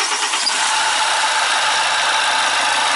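A steady diesel engine idling throughout, a low continuous rumble with a constant mechanical hum, close and fairly loud with no other sounds. Renault Megane, 1.5 dCi K9K engine.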